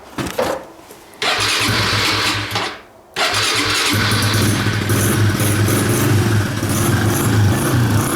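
A small engine with the choke out is cranked, catches briefly, stalls, then fires up and settles into a steady close idle, loud and rough with no talking.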